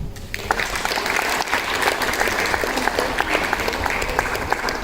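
Sustained applause from a school audience at a Diwali celebration for the principal, a dense steady wash of many hands clapping throughout, loud and close with no talk over it.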